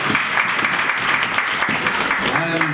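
Wedding church congregation applauding and cheering throughout, a steady dense wash of clapping with voices mixed in, fairly loud and close, with a brief sung or spoken tone rising near the end.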